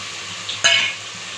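Fresh mint leaves go into a hot, sizzling pan for mutton biryani, setting off one brief burst of crackling sizzle and stirring over a quiet background hiss.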